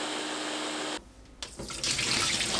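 Soaked rice is drained and lightly rinsed in water at a kitchen sink: a steady hiss gives way to a quieter pause, then louder, close splashing of running water.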